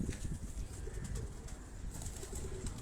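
A khaki pigeon coos softly in a Lahore fancier's pigeon loft, low rolling calls repeating faintly, with brief wing flutters and light background noise.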